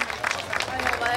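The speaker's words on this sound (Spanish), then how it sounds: "un aplauso al mexicano" Crowd applause for a Mexican charro at a rodeo during the 2016 patron saint festivities in Las Varas, Nayarit, a steady wash of clapping running under a loud announcer's voice.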